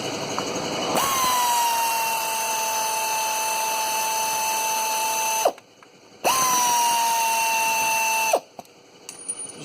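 Power ratchet or impact tool spinning off the six bolts on the EGR valve of a 2011 VW Touran 1.6 TDI, two long steady whirring runs close up with a short pause between them.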